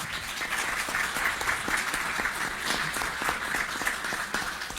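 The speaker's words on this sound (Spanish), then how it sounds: "le pido un aplauso para todos ellos" Applause from the audience at a panel on sustainability and Argentina's productive sectors, many hands clapping in a steady, fairly soft patter that continues evenly for several seconds with no speech over it.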